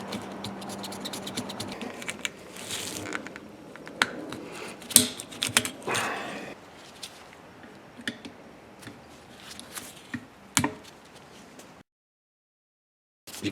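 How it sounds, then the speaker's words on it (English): A razor blade slicing through an old rubber tire valve stem during a tire pressure sensor swap, close scratchy cuts and scraping strokes in uneven bursts, then stopping into silence. "now we could just use a razor blade here and cut the old valve stem from here."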